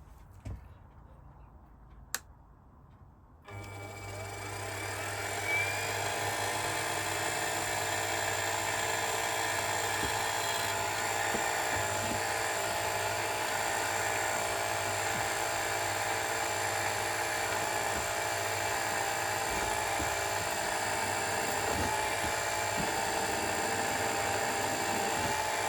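A small drill bores into a part for a model steam tram. After a few quiet seconds with a faint tap, a motor whines up and then runs at a steady, high, even pitch until the end.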